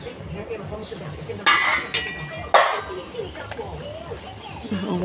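A lid set on a pot of kamansi simmering in coconut milk, heard as a few sharp metallic clinks and clatters in quick succession over a couple of seconds, with someone talking nearby.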